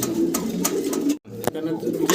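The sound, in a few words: fancy pigeons cooing at a farm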